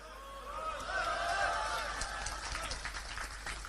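Crowd applause at a comedic Indonesian religious sermon, a moderate wash of clapping that swells midway and then thins, with voices and murmuring mixed in.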